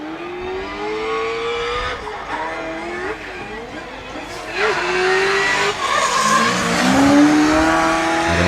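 A drift car engine revs hard with rising and falling pitch during a handbrake slide at a French drifting competition, while tires squeal and skid loudly, the screech building toward the end.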